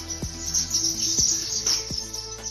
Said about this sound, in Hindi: इस घर में दिन की शुरुआत ही चिड़ियों के चहचहाने से होती है।